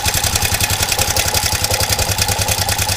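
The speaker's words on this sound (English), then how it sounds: "kind of like a rumble or grind, kind of hard to describe, noise going on inside here" Car engine idling with a rough rumbling, grinding noise inside, a steady close mechanical clatter with a rhythmic pulse and no talking over it.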